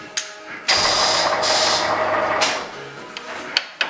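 A boring machine spins up to about 290 rpm to bore a connecting rod, its motor kicking in abruptly with a loud whirring roar that holds for about two seconds before easing off into light mechanical clicks.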